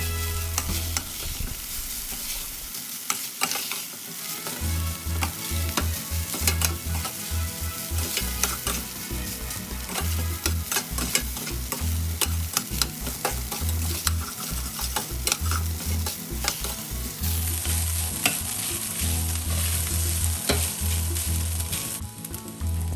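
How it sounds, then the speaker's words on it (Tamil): Cooked rice is stirred into hot ghee in a pan for ghee rice, giving a steady sizzle with continuous scraping stir strokes throughout, no voices present. "இப்போது குக் பண்ணி வச்ச சாதத்தை கொஞ்சம் கொஞ்சமாக போட்டு கிளறி விடுங்க."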